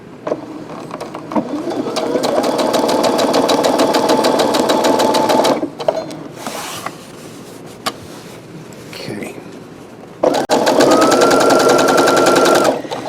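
A Brother SE625 sewing machine with a bi-level compensating foot stitches over a thick fold in two long, steady bursts of rapid needle clatter, stopping in the middle for a quiet pause with faint handling noises.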